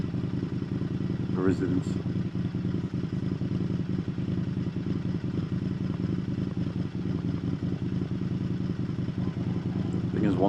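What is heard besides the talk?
Indian FTR1200 motorcycle with quiet exhaust idling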